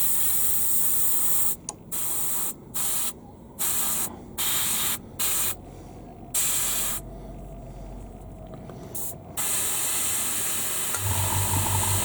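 Airbrush spraying paint onto a miniature, a steady close hiss broken into repeated bursts of a second or so with short gaps, then a longer continuous spray near the end.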